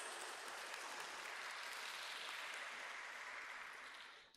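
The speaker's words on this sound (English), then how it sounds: "give her applause," Applause from an audience at an international primatology symposium honoring women researchers, a soft, distant wash of many clapping hands that holds steady before fading out at the end.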